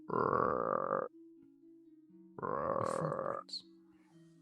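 A frog croaks as a tabletop role-play sound effect set by a riverbank: two long, loud, rasping croaks separated by a pause, alone with a faint background tone.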